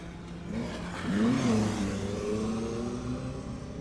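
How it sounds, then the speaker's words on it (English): Citroen AX GT rally car at Oulton Park revving hard, its engine note climbing and holding at close range through most of the stretch, with no voices over it. "Also pressing on with some great car control here were Ben and Kevin Wilson in their Citroen AX GT"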